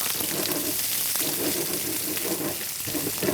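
Onions frying in a pan for chicken kofta korma give a steady, close sizzle with a fine crackle that holds throughout, and there is no talking.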